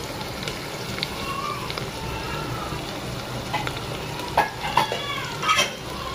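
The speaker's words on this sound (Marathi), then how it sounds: "कांद्याला चांगला व्यवस्थित भाजून घेऊ." Onion frying in a pan gives a steady close sizzle throughout, with brief louder bursts as it is stirred near the end.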